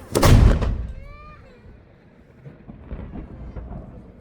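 A single ceremonial cannon shot rings out at the Valletta Saluting Battery in Malta, a loud close boom followed by a long rolling echo across the harbour, with faint crowd murmur after.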